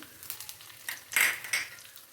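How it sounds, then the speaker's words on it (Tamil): A South Indian tempering with chana dal, curry leaves, green and dried red chilies and asafoetida is stirred in a pan, giving soft sizzling with several clinks and scrapes of a spoon against the metal. "கடைசியில் கடலைப்பருப்பு சேர்த்து ஒரு தடவை எல்லாமே மிக்ஸ் பண்ணிக்கலாம்"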